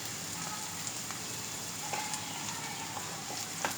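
Onion sizzles steadily in hot oil with a pinch of salt during a tempering, a close, even crackle with occasional small pops and no talking.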